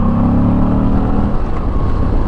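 Moto Guzzi V85 TT motorcycle, a 2022 Guardia d'Onore E5, with its engine revving on a downshift: a loud, steady, close mechanical drone with a rough low rumble and falling harmonics, no talk.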